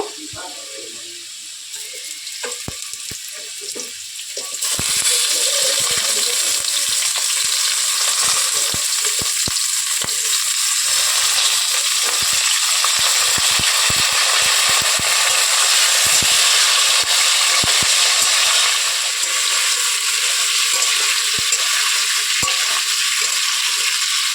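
Potatoes and ridge gourd frying in a pan, a loud, dense hiss that swells suddenly as the gourd goes in and then holds steady, with scattered stirring knocks and no talking.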